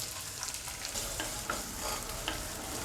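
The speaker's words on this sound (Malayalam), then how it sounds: "ഇനി ഉള്ളി നല്ലോണം വഴറ്റുക" Chopped onion sautéing in a pan with cumin seeds, giving a steady low sizzle and frying crackle with a few soft stirring scrapes, close and continuous, no voices.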